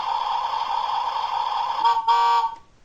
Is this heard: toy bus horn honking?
yes